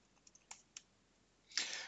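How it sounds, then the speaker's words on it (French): A few light, close clicks of arrow keys on a computer keyboard while moving between cells in an Excel spreadsheet, spaced irregularly in a quiet room, followed by a louder brief rustle. "Les déplacements se font avec les flèches du clavier."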